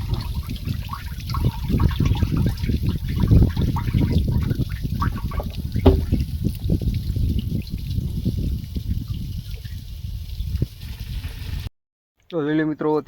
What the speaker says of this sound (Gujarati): આપણે બેરલમાં કરી દીધું છે પાણી ચાલુ